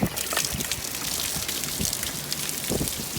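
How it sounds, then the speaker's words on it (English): Water draining out of a camper's tank holding around six gallons, a steady splashing trickle and patter that runs the whole time at close range, with no voices over it. "Let that drain out nice and good, nice and dry."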